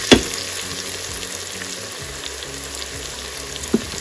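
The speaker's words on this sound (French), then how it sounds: "on laisse revenir dans les épices et on va ajouter le piment" Chicken karahi sautés in spices with chili in a Cookeo pot, giving a steady soft sizzle with occasional stirring scrapes and a couple of sharp clinks, quiet and close with no talking.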